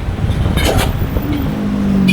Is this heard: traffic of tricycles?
yes